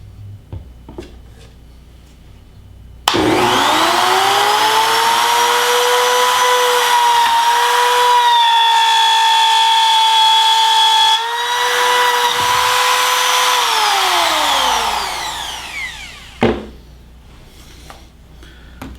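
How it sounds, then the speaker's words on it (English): A plunge router cutting a keyhole slot in wood with a jig, spinning up to a loud steady whine that holds for about twelve seconds, shifts pitch as it cuts, then winds down, with a few clunks around it. "I'll turn the router on, plunge it straight down, move it across, holding pressure against towards me against this jig."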